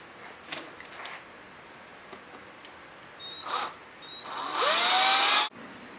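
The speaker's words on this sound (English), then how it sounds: "I'm going to drill a hole right through here" A power drill whirs up briefly, then runs in a loud steady whine for about a second before stopping, after a few faint clicks and handling noises, drilling a hole through a part of a 1/4 scale model figure kit.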